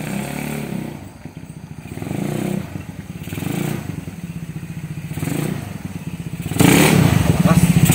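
A freshly rebuilt, overheating motorcycle engine runs with a low, steady putter that surges louder near the end, with some clattering and thuds mixed in.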